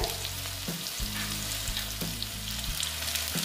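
Potato pieces frying in hot oil make a loud, constant sizzle close by, with soft low tones shifting underneath and no talking.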